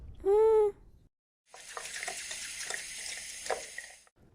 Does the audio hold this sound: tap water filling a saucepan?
yes